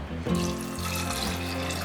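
Running water pours steadily into a pressure cooker with chickpeas and salt, a continuous splashing stream filling it up close, with no voices.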